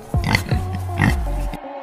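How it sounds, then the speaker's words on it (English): A pig grunts and oinks in several short, close, loud bursts, ending in silence. "The pig."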